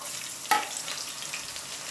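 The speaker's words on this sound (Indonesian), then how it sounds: "Saya mau goreng ini bawang putih, cabe sesuai selera ya." Garlic and chili sizzle in a hot pan with oil, a steady frying hiss with a brief clatter near the start, heard alone.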